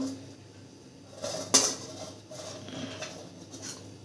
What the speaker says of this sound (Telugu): దీన్ని అయితే మిక్సీ జార్లో వేసేసుకుందాం